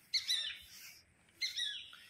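Two bright bird chirps, one after the other, come from a children's playground spring rider. They are faint and spaced about a second apart, with no talk over them.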